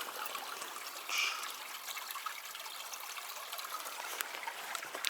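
Spring water trickles in a faint, steady, thin stream close by outdoors, with a brief brighter splash early on and no voices.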